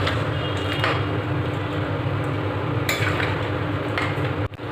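Dried peas ghugni being stirred in a pot after water goes in, a continuous wet churning and scraping with faint metal taps, close and steady, without any talking.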